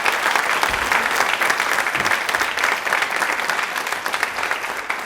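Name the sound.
audience applause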